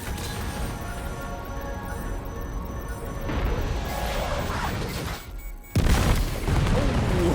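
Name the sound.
cluster bomb explosions in Death Stranding 2 video game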